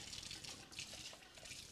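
Water runs over tomato seeds in a kitchen strainer as they are rinsed, a steady, fairly faint splashing hiss with no voices.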